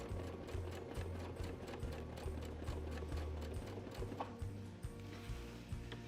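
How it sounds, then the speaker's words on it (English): A domestic sewing machine quilting at medium speed, guided along Westalee quilting rulers, gives a faint, steady, rhythmic mechanical chatter of needle strokes with a few brief pauses. "And I'm also going to keep my machine at about a medium speed, and I'm just going to move this just across like that."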